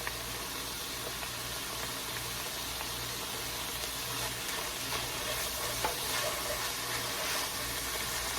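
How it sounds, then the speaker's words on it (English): Three cloves of minced garlic sizzle in a pan for goulash, a dense, even frying hiss that runs throughout, with light stirring scrapes mixed in. "And now we want to add our 3 cloves of minced garlic."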